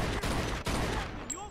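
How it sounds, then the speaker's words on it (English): Rapid Tommy gun bursts ring out in the Mafia 2 video game, with several sharp, loud cracks in quick succession over a dense, noisy background. "He's got like a fucking Tommy gun or something."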